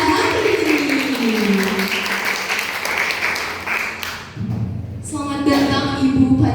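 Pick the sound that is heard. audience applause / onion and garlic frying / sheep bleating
audience applause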